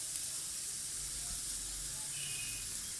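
Cumin seeds sizzle in hot oil as radish kebab mixture is prepared, giving a steady, even frying hiss throughout with no voices.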